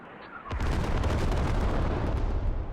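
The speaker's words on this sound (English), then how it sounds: "artillery gonna land on the eastern side of factory" Artillery shells striking in Squad, one sharp close impact followed by a long, heavy rumbling roar of blasts that stays loud to the end.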